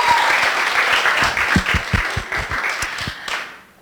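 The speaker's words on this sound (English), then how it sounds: "A big round of applause for having you all here." Loud applause from the audience at FuckUp Nights Beirut, a dense wash of clapping with a few distinct heavy claps that thins out and fades to silence near the end.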